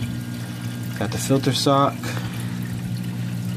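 Reef aquarium water running down drain pipes into a filter sock in the sump, a continuous splashing trickle and pour heard close up beneath a man's brief speech.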